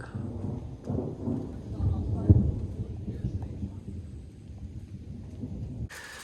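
Thunder rumbles during a lightning storm at Brown County State Park, a low rolling roar that swells and fades over several seconds with rain noise around it.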